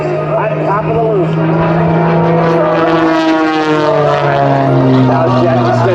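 A loud aerobatic propeller airplane engine drones steadily, its pitch slowly sliding as the plane flies inverted and climbs during airshow maneuvers.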